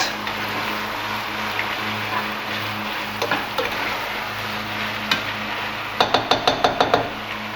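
Chilli con carne is stirred in a pan over a steady low simmering hiss, with scattered scrapes and a quick run of sharp spoon taps against the pan near the end.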